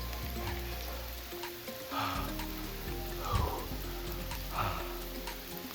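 Rain patters and hisses on surfaces during an outdoor thunderstorm in the Colorado wilderness, a steady close wash with scattered harder hits and faint tonal tones underneath.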